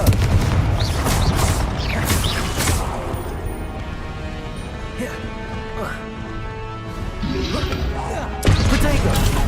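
Confringo blasting spell in the Hogwarts Legacy video game, loud booming crashes and explosive bursts with ringing tonal effects, fading midway before another blast hits near the end, with talking mixed in.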